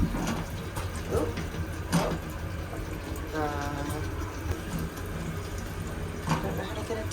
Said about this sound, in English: sink with running water